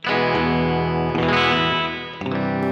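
Electric guitar chords played through a Sonicake Levitate pedal set to a very bright hall reverb, loud sustained stabs ringing out with a shimmering wash that lingers and decays between strums.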